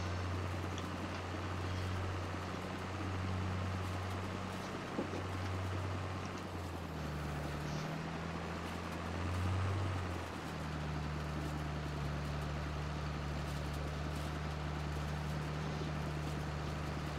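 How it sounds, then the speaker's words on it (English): A 4440 tractor engine runs on a hay-making farm, giving a steady low diesel drone with a brief shift in pitch midway before it settles back into an even hum. No voices are heard. "Lovely little nimble tractor, this 4440."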